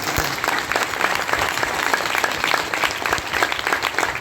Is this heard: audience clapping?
yes